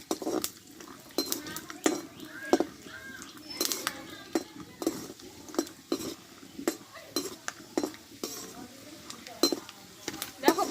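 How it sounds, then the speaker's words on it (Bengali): Peanuts fry in hot oil while a metal spoon stirs and clinks repeatedly against the pan, sharp scraping taps in an irregular rhythm over a faint sizzle. "এই তেলে এই বাটির এক বাটি মতো বাদাম নিয়েছি বাদামটা ভেজে নেব"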